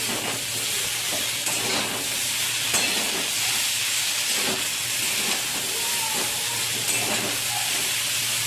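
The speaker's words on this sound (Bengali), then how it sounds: "শাকটা একটু ভালো করে একটু নেড়ে ছেড়ে নিচ্ছি" Gima greens being stir-fried in a pan: a steady, dense sizzling hiss with a constant low hum underneath and occasional soft stirring knocks, close and continuous throughout.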